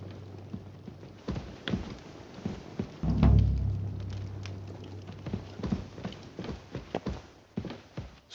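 Horse hooves clip-clop at a steady walking pace in Kingdom Come Deliverance II, a close series of crisp knocks with a brief heavier thud and rumble partway through.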